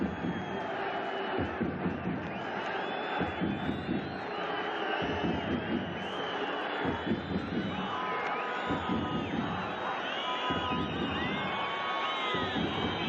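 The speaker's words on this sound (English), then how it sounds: "Crowd getting on the case of Hassan Hamza for taking an inordinate amount of time over this goal kick." A football stadium crowd at an AFC Champions League Two match between PFC Nasaf and Shabab Al Ahli roars and jeers in sustained waves over a slow goal kick, a continuous distant mass of shouting voices.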